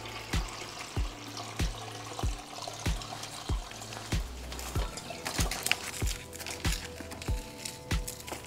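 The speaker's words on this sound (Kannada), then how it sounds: "ಕಡಿಯುವ ಮುಂಚೆ ಉಪ್ಪು ನೀರನ್ನು ಕೂಡ ಹೀಗೆ ಸೋಸಿಕೊಳ್ಬೇಕು." Salt water for a tender mango pickle strains through a cloth, giving a steady run of soft drips about twice a second over a low background hum.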